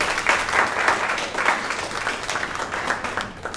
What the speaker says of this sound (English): Please give our panel a round of applause.